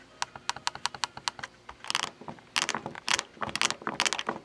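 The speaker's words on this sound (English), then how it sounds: "listen to the click on those keys, almost like an IBM Model M, but not really" Keys on a vintage Bohsei 3000 calculator, made in Hong Kong with an LED display, click sharply and close up in quick irregular bursts, with a short pause before a denser run of presses.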